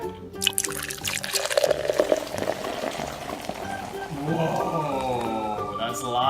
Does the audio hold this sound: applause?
no